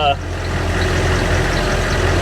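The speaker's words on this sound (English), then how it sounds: "And the sound of that diesel engine, man." Diesel engine of a Humvee drives along with a steady low rumble throughout, close to the microphone, while a person talks over it.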